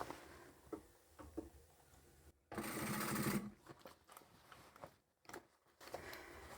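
A sewing machine stitches slowly over a bulky, thick jeans seam while a hem is sewn, giving a soft close whirring and ticking run with a louder, strained burst midway and brief pauses between stretches.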